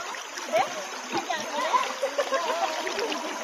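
Water from a shower splashes and trickles steadily outdoors, a continuous wet spatter with irregular drips, while people talk nearby.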